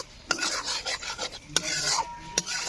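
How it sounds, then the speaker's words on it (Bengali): Spice masala with turmeric is sautéed in oil, heard as soft scraping and stirring in the pan, punctuated by a few sharp clicks of a spoon against the vessel. "মশলাটা যতক্ষণ অবধি না তেল ছেড়ে আসে ততক্ষণ অবধি কষিয়ে নেবো"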